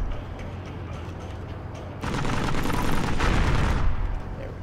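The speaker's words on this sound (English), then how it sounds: "Being shot in the side." Gunfire striking the side of a tank in the Heroes and Generals video game. A steady low mechanical rumble gives way to a loud, dense stretch of rattling hits lasting a couple of seconds before it eases off.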